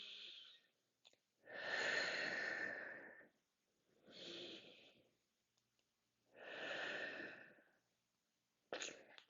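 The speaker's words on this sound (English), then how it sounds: "taking a couple deep breaths here" Slow deep breaths during a full-body mobility stretch, three long airy inhale-exhale swells spaced a couple of seconds apart, close and fairly quiet, with a brief rustle near the start and end.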